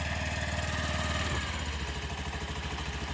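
A Honda Activa H-Smart scooter engine idles just after being switched on, a close, steady mechanical putter that shifts to a lower, rougher beat partway through.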